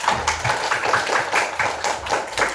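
Children in a classroom clap together in a loose, uneven rhythm of repeated bursts, moderately loud and close, with no talking over it.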